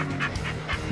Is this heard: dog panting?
yes